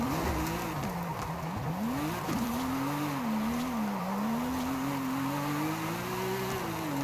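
Tires on a drift car in Forza Horizon 5 squeal in a long sustained wail that bends up and down in pitch as the car slides. The engine roars underneath without break, loud and close.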